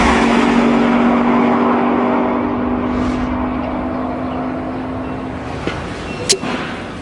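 A McLaren supercar engine running up to speed, with a loud, close, continuous roar and a steady droning tone that eases slightly before a few brief sharp bursts near the end.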